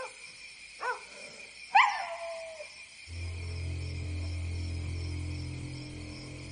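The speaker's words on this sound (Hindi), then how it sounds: "डांग, इतना क्यों भौंक रहे हो?" A village dog named Dang barks twice, two short, sharp yelps a second apart, then goes quiet while a steady low hum rises underneath. The barks are moderately loud and there is no speech.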